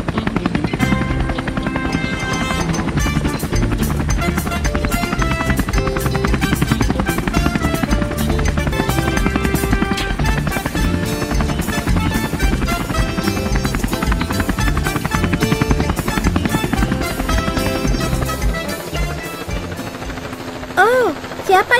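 Loud, rapid thumping of helicopter rotor blades close by on a tour over Rio de Janeiro, steady and continuous throughout, with faint voices beneath the noise.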